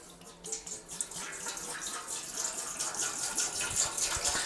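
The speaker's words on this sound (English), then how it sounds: "Pouring our gallon of water in." A gallon of water gushes steadily into a large tamale pot, a continuous splashing pour that grows slightly fuller and louder as it goes on.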